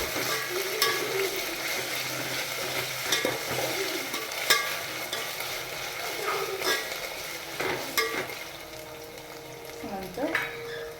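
Ginger garlic paste frying with browned onions in a pan, a continuous loud sizzle broken by repeated spoon scrapes and clinks against the pan throughout.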